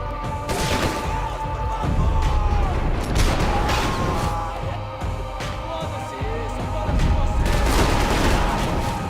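Rapid, dense gunfire crackles and booms almost continuously, with bursts of automatic fire and scattered explosions, in the video game Max Payne 3, including a .50 caliber shot.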